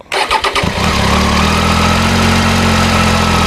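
A 2019 Triumph Tiger 800 XR motorcycle engine catches with a few sputtering bursts, then settles into a steady, fairly high idle around 1000 rpm, close and loud with no talk.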